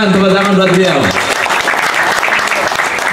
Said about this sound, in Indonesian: Bapak Sulaiman, tepuk tangan buat beliau